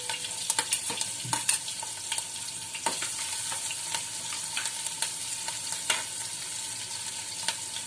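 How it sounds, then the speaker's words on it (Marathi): Garlic sizzles in hot oil in a pan for a Malvani-style fenugreek leaf dish, a constant crackling fry broken by sharp clicks and scrapes of stirring. "नंतर लसूण टाकू आपण"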